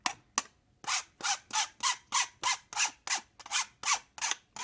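Cooked egg white being scraped off with repeated short rasping strokes, about a dozen in a steady rhythm with brief gaps between them, close and crisp, no talking.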